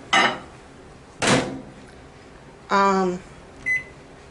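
A microwave oven melting butter for a mixed vegetable casserole in a home kitchen, heard as a few loud separate bursts of clunks, a humming whir and a short high beep, with no talk over it.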